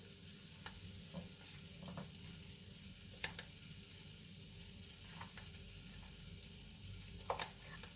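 Cooked rice being stirred into warm beans, meat and vegetables in a pan for a taco bowl, with a steady low sizzle under soft scraping and a few light utensil taps, close and fairly quiet throughout.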